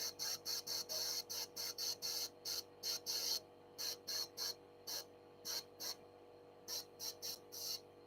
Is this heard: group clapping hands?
no